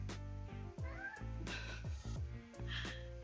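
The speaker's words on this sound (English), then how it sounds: "The cat in the background" A cat meows and caterwauls repeatedly in the background, several drawn-out, wavering cries close together over a steady low hum, loud and clear throughout.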